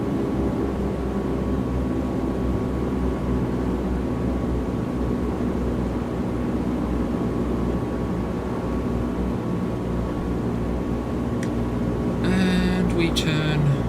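Propeller engines at takeoff power in a flight simulator game hold a loud, steady drone throughout, with a few brief electronic beeps near the end.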